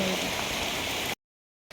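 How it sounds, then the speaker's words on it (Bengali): Rain pours outside a house during a cyclone, a steady dense hiss lasting about a second before cutting to silence, then briefly returning. "বাহিরে বৃষ্টি"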